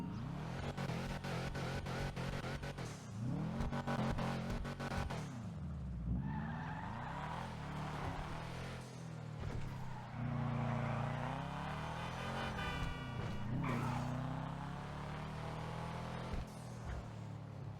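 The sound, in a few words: Karin Boor car engine revving, video game GTA Online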